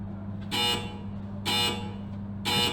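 At a Masters 2024 snooker match, a shot clock gives three loud, even electronic beeps about a second apart, with quiet hall hum between them.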